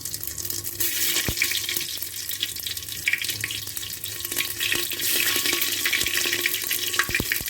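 Cumin seeds hit heated mustard oil, giving a close, steady sizzle and hiss dotted with scattered sharp crackles and pops throughout, with no talking.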